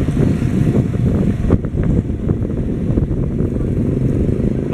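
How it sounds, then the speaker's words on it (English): Motorcycles and tricycles drive along a dusty rural town street in Barotac Nuevo, Iloilo, Philippines, a loud continuous engine drone mixed with wind buffeting on the microphone, one passing close with a sharp burst of noise. "A lot of motorcycles, a lot of tricycles, a lot of noise, a lot of dust."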